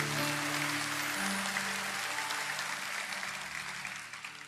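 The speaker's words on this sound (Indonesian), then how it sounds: "Kasih tepuk tangan." Applause from a church congregation during a Sunday service in Surabaya, a steady wash of clapping that holds evenly for several seconds and slowly fades toward the end.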